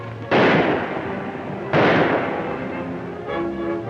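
Gunfire in a 1941 western movie: two loud, sharp shots about a second and a half apart, each with a booming tail that fades, followed by fainter noise.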